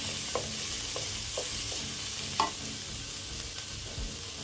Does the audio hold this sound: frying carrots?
yes